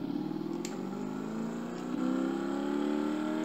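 A car engine in the Car Mechanic Simulator video game runs on the test track, a quiet, steady whirring hum that rises slightly partway through, with no voices over it.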